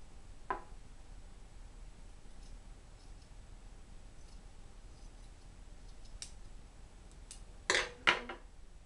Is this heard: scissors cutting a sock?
yes